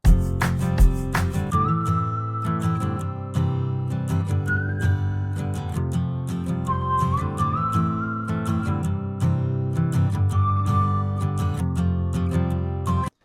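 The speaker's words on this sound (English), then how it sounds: "let's see what it sounds like if we bring the whistle in as well." A whistle plays a simple melody over strummed guitar and steady percussion in a lively country-style arrangement, continuing throughout.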